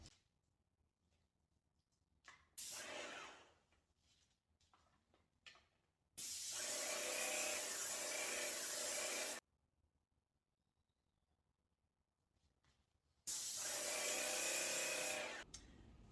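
A Graco Magnum X7 airless paint sprayer fires three separate bursts of loud, steady hiss across a scrap wood test board, the bursts roughly three to four seconds long with quiet gaps between them.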